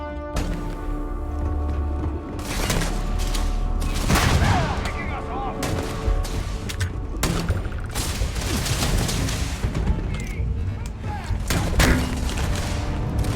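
Heavy gunfire in the Starfield video game, a dense run of loud, close shots and thuds firing in rapid irregular bursts, with a voice talking faintly underneath.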